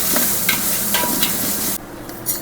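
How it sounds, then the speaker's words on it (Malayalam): Ginger garlic paste frying in a pot for biryani, with a dense close sizzle and a few brief stirring scrapes; the hiss drops off sharply near the end of the short stretch. "അങ്ങോട്ട് ഇളക്കാം."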